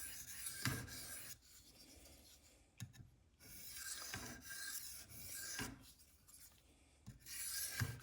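A Spyderco Paramilitary 2 knife with a CPM-10V blade drawn lightly back and forth across a sharpening stone, giving soft, faint scraping strokes with brief pauses and small clicks between passes, close up.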